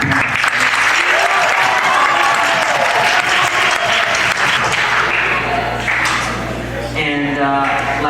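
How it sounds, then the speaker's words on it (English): Audience at a school music department concert applauds parents; sustained, dense clapping fills the hall at steady loudness for the whole stretch, with a voice speaking over it near the end. "So another round of applause for your parents."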